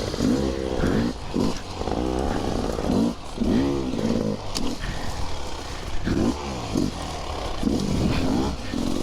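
An enduro motorcycle engine running loud and close, with repeated surges and dips as the throttle rises and falls.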